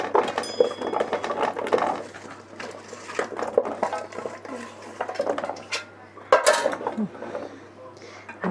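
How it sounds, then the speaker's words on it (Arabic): Potato pieces are laid into a metal baking tray for a chicken and potato bake, producing close, irregular knocks, thuds and clatters. "هنحط البطاطس"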